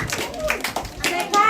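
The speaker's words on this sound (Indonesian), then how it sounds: "Tepuk tangan anak besar" A group of older children clapping their hands at a first birthday celebration in Bunna' Sillanan, several quick bursts of close, fairly loud claps mixed with voices.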